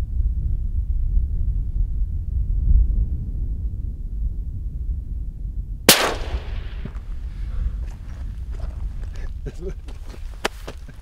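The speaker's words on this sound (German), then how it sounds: "den perfekten Schuss" A single sharp rifle shot during a springbok hunt in Namibia cracks out over a low rumbling background, followed by faint rustling and scattered small sounds.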